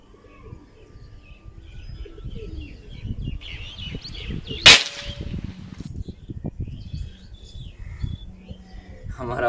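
Air gun firing a single sharp crack at a target bottle in a pellet penetration test comparing HN Hornet and Predator Metalmag pellets, a loud brief snap midway amid quiet murmuring voices and chirping birds.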